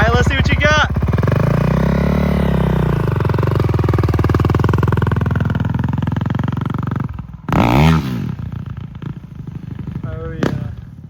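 A 450 dirt bike revving and being ridden nearby, its engine droning steadily for several seconds with rising and falling pitch, while people talk and cheer over it.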